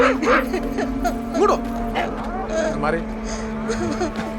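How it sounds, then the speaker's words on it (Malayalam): A dog gives short barks and yips mixed with whimpers amid lively overlapping talk, with a steady low hum running underneath. "കണ്ടോ എങ്ങടെ പട്ടി എന്റെ മണിക്കുട്ടീനെ"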